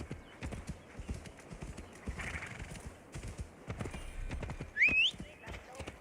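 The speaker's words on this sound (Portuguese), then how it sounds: "Tem que ir de cavalo." Horse hooves clip-clopping in the video game Assassin's Creed Valhalla, a steady trotting rhythm of hoofbeats with a short whinny near the end, heard under a voice speaking.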